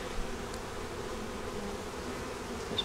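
Honey bees on a hive frame in a winter top box, a soft steady buzzing drone that stays low and continuous for a few seconds.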